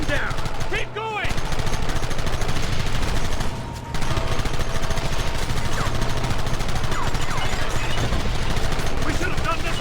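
Sustained gunfire during a wagon chase in Red Dead Redemption, rapid shots cracking nearly nonstop for about ten seconds, loud and close, with only a brief lull near the start and another midway.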